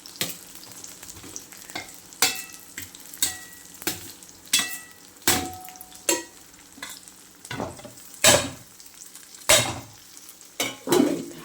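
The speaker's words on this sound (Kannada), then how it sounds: "ಆಲೂಗಡ್ಡೆ ಈ ಥರ ಚಿಕ್ಕ ಪೀಸಸ್ ತುಂಬ ಚೆನ್ನಾಗಿರುತ್ತೆ ಫ್ರೈ." Small square potato pieces fry in oil in a pan, a steady sizzle broken by repeated scraping stirs at a fairly regular rhythm, close and clear with no talking.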